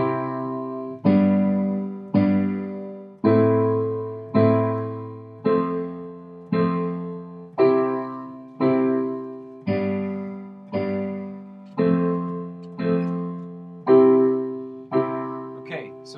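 Piano chords played through a song verse, two notes per chord with the root in the left hand, a steady series of about thirteen evenly spaced struck chords, each decaying before the next, with no talking.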